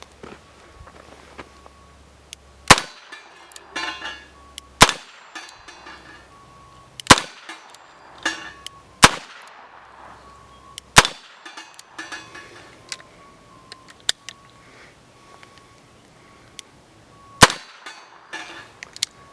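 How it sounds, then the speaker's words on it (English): A Smith & Wesson 586 revolver firing light .38 Special rounds at an AR450 steel target outdoors, six sharp, well-spaced shots, each followed by a ringing metallic clang and short decay, with quiet between. "I'm going to shoot the target now with my 586"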